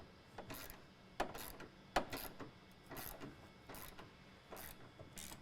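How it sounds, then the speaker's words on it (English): Hand ratchet with a 13mm socket turning a fuel tank strap bolt on a 2017 Ford Powerstroke 6.7L crew cab, heard as a series of close, quiet clicking ratchet strokes, alone. "we're going to get on this with a 13mm and a ratchet."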